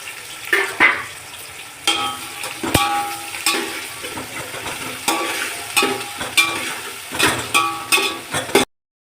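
About a kilo of onions frying for chicken dum biryani with whole spices, a spoon scraping and stirring the pan in repeated strokes over a soft continuous sizzle, ending in silence.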